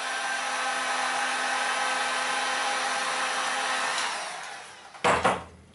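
Hot-air heat tool warming solidified glue for a fishing rod tip repair, a steady loud blowing hiss for about five seconds that then cuts off into a few brief handling knocks.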